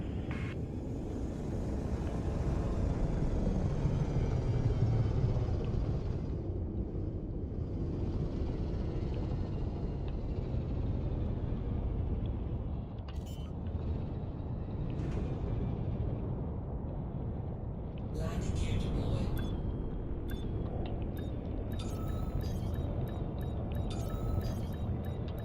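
A spaceship settling onto a station landing pad in Elite Dangerous, a steady low engine rumble and hum throughout with brief higher whooshes and mechanical clanks toward the end, loud and continuous.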